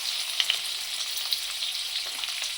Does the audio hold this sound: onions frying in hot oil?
yes